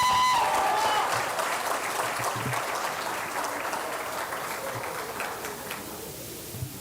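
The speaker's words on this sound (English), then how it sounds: "Let's get another round of applause" A crowd at a cadet inter-platoon public speaking competition claps steadily for several seconds, a dense wash of applause that slowly tapers, with faint stray voices underneath.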